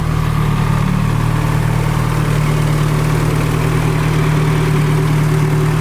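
A K24-swapped Nissan Cefiro engine idles close by, a loud steady low rumble with an even throb that holds unchanged throughout.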